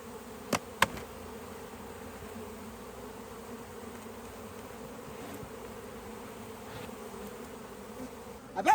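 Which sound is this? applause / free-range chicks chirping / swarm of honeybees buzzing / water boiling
swarm of honeybees buzzing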